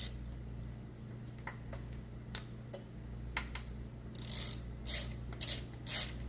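A ratchet snugs a bolt on a Porsche Boxster 986 engine during a rebuild, with quiet scattered ratcheting clicks and bursts of sharper metallic ticking later on, close and faint, no speech.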